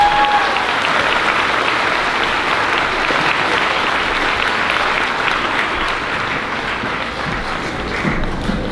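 Parents and families at a fifth grade moving-up ceremony applaud the students in a long, loud, steady wash of clapping from a large crowd that fills the room and barely fades.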